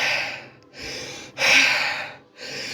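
A voice imitates heavy breathing in a tabletop fantasy role-play game: four long, loud, breathy heaves in slow succession, each separated by a brief pause, close to the listener with no other sounds.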